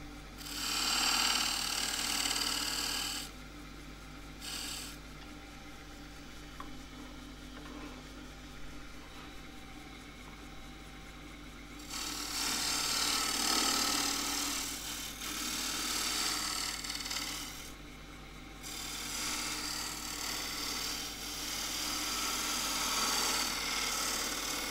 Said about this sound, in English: Kind of shear scrape there just to reduce that diameter